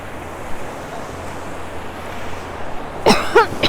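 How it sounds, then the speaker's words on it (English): A person coughs twice, close and sharp, near the end, on a breezy beach during a Sanibel shelling outing, with continuous surf and wind rumbling underneath. "Excuse me as I'm coughing."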